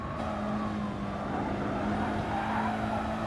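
Race car engine in GT Sport drones continuously at a steady pitch with faint tire noise, an even, moderately quiet racing sound with no talking.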